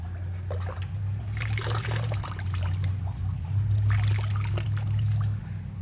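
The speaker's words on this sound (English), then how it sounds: "Got to rinse the sponge out real good, which I can't do with one hand." A sponge is rinsed out in water while making a stone table on glass. Close splashing, pouring and trickling swells twice over a low background hum.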